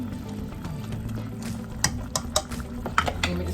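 Pear cobbler juice is poured into a container and stirred, giving soft liquid splashes and a few sharp utensil clinks against a low background hum.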